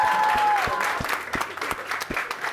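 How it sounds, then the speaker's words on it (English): Applause from a studio audience during a game show giveaway, steady clapping throughout with regular thumping beats and some voices mixed in underneath. "Round of applause."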